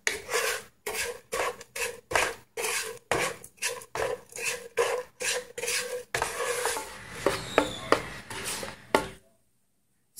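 Sugar caramelizing in a pot over low heat, for a Lao caramelized pork stew, is stirred with steady, rhythmic scraping strokes, close and fairly loud. Near the end the strokes turn into irregular scrapes and clinks, then stop into silence.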